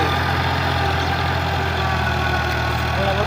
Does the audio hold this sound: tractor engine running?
yes